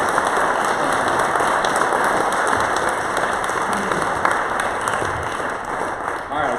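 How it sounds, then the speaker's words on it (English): An audience gives a speaker a round of applause after a talk, a dense, steady clatter of many hands filling the room for several seconds, with a voice briefly heard near the end. "Can you give Chris a nice round of applause?"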